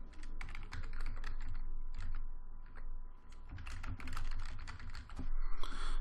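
Someone typing a folder name on a computer keyboard, with rapid, close key clicks in irregular bursts that run steadily over a low background hum, ending in a slightly louder flurry of keystrokes.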